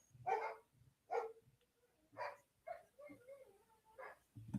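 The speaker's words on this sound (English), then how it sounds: "Dogs are having a little bit of bark to themselves." Several sharp dog barks and yips ring out one after another in an irregular rhythm, fairly close and clear, with a few softer whines between them and no talk over them.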